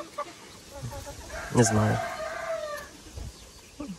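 A Marans rooster crows once loudly and close by in a chicken coop, while hens cluck softly before and after; a person briefly says a few words.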